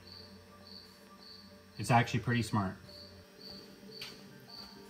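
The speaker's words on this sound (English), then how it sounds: "I apologize about my little cricket friend." A cricket chirps in steady, evenly spaced pulses during work on an abandoned 1959 Dodge, with a man's brief remark heard between the chirps.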